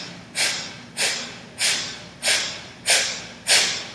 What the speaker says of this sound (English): Kapalabhati sounds like this.